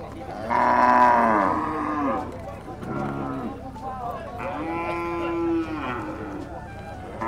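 Several long, deep lowing calls from water buffalo nearby at a livestock stockyard in Dawis, one after another with short pauses, over a low background hum.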